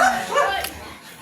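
A short yippy bark with a whiny edge from a dog nearby, brief and fairly loud.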